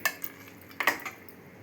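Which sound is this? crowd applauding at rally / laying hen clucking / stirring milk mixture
stirring milk mixture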